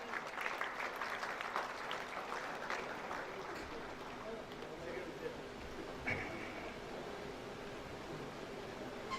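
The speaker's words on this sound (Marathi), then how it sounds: "पुन्हा एकदा जोरदार टाळ्या" An audience at an award ceremony in Nagpur breaks into applause, a continuous wash of clapping that stays steady and moderately distant, with a voice speaking over it.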